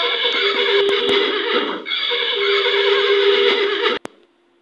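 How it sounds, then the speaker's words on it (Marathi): A loud, close horse whinny rings out for several seconds with a short break, then stops abruptly. "मग चला बरं बघूया काय आहे हा घोडा. बघा कसा ओरडतो."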